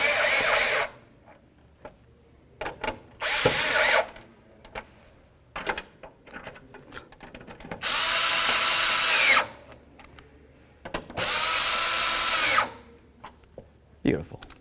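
A power drill driving screws into a parking light assembly on a 1992-99 GMC K1500 pickup, several whirring bursts of a second or two each, separated by pauses, with a person talking in between.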